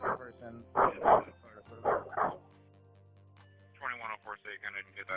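Dog barking heard over a police radio channel, several sharp barks in two bursts with a pause between, tinny and mixed with radio transmission noise.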